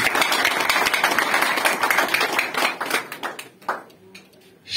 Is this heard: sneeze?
no